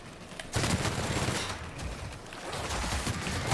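Sustained bursts of gunfire in The Outer Worlds video game, loud and continuous, forming a dense barrage layered with combat noise.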